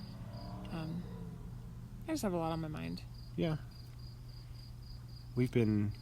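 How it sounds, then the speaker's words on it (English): Crickets chirp at night in a steady, thin, continuous drone that runs beneath a quiet conversation between two people. "I'm listening to the crickets and I'm relaxing"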